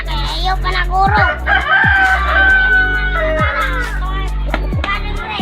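Several chickens crow and cluck close by, with roosters calling repeatedly over one another and steady clucking underneath. People talk and children's voices can be heard throughout.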